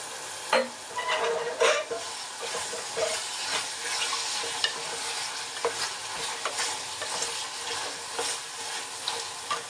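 Chicken with gourd fries in oil in a pressure cooker, a steady close sizzle broken by frequent stirring clatters and scrapes.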